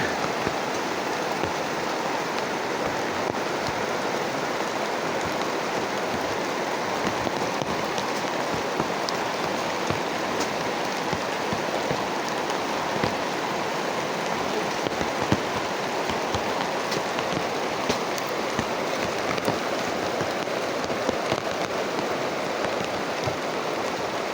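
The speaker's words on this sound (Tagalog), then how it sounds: "Ang lakas ng ulan." Heavy rain pours down in a constant, loud, hissing roar, with countless drops drumming on surfaces and occasional sharper patters, steady for the whole stretch with no talking.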